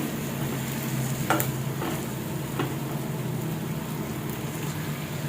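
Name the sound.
eggplant sautéing and sizzling in masala and oil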